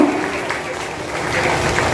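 Audience clapping steadily for a student honoured at a children's welfare organisation's award ceremony in Tejganj, a continuous wash of applause from a gathered crowd at moderate loudness throughout.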